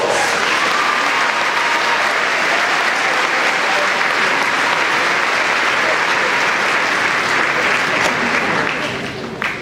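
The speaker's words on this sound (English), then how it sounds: "Would you please give everyone a round of applause?" Loud, dense applause from the audience at an elementary school graduation ceremony, a steady wall of clapping that holds for nearly ten seconds before easing off slightly at the end.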